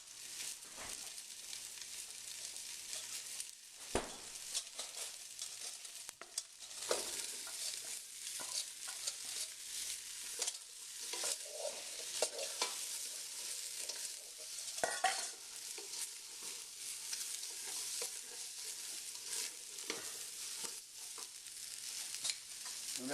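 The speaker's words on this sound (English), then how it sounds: "I'm going to use that, basically, that pork fat to cook these vegetables." Vegetables fry and sizzle steadily in rendered pork fat for a home-style split pea soup, with a bright continuous crackle broken by occasional stirring and scraping in the pan, and no talking.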